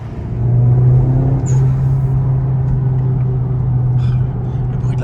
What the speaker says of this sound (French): Le bruit de la valve.